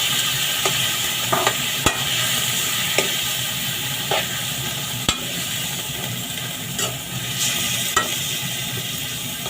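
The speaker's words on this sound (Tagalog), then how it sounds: "Halo-haloin mo ng maayos yung giniling mga idol para maluluto lahat." Ground meat for menudillo fries in a pan under a steady, close sizzle, while a spoon scrapes and taps the pan in repeated clacks as the meat is stirred.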